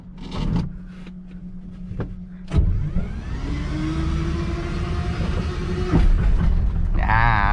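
A car engine cranks briefly, then catches and settles into a steady idle hum, with a few clunks and the whirring of the air-conditioning fan near the end.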